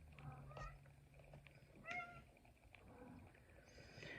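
A pet cat meows several times, the short, faint, scattered calls separated by quiet pauses, with no talking over them.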